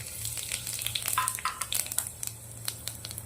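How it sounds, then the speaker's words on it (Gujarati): Dry whole spices hit hot oil in a pan, a fairly quiet crackling sizzle with scattered sharp pops and ticks over a low steady hum. "મસ્ત ગરમ થઈ ગયું છે હવે આપણે આ સૂકા મસાલા નાખી દઈશું"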